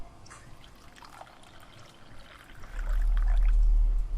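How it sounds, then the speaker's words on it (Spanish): Water is poured for a cup of coffee, first as a quiet trickle and then as a louder, steady low rush of liquid. No one talks. "Agua."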